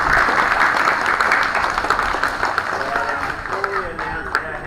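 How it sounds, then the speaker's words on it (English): A school crowd at a school parade gives a round of applause, a dense, sustained wash of clapping that stays loud and steady before easing off slightly toward the end. "So a round of applause there."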